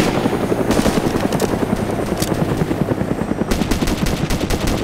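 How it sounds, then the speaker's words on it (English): Huey helicopter in a DayZ mod game approaching, a loud continuous rotor thump joined by rapid bursts of gunfire throughout, all close and dense. "Helicopter."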